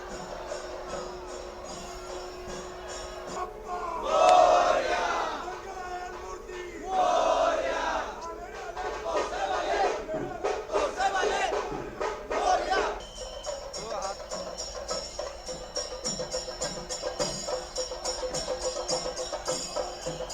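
A large outdoor crowd at a Ganpati immersion procession roars and chants in loud surges, with bursts of shouting rising and falling over a dense, continuous din.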